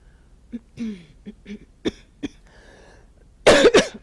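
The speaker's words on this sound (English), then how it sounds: "Coughing again, very typical reaction to energy shifts." Several sharp coughs scattered across a few seconds, with throat clearing between them, ending in two loud, harsh coughs close to the listener.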